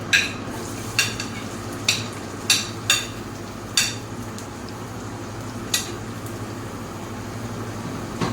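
Onions sizzle in a frying pan with a constant hiss, broken by repeated sharp clicks and scrapes of a utensil stirring against the pan at irregular intervals.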